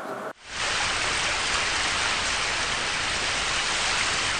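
Steady, heavy rain pours down after a brief moment of quiet, a dense and continuous hiss that stays loud and close, with no voices.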